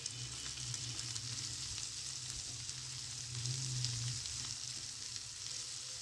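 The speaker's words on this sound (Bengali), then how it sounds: "সবগুলো মিক্স করা হয়ে গেছে, কিছুক্ষণ ভেজে নিয়েছি" Chicken chow mein mixture fries in a pan with a steady, even sizzle throughout, fairly close and moderately quiet, with no talking.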